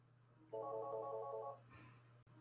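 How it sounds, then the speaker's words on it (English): A mobile phone rings with an incoming call: one burst of a melodic ringtone, clear but moderately distant, over quiet room hum, with no talking. "somebody's calling my phone."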